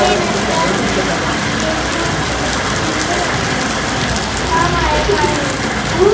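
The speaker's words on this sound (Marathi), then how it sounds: "पाऊस" Rain falling outdoors on an evening outing after a film: a dense, steady hiss of drops on surfaces, fairly loud and close, with faint voices underneath.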